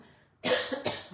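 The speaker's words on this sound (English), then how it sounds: "whenever I start talking, I get the tickle and start coughing" Two quick, close coughs from one person, a sharp burst followed by a second one in a quiet room.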